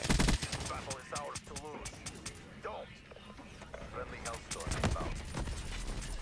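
Gunfire from Call of Duty Black Ops 3 crackles in rapid bursts and single shots, loud at the start and scattered throughout, with players talking over it.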